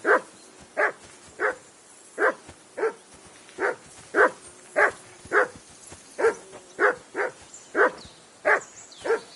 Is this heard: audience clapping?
no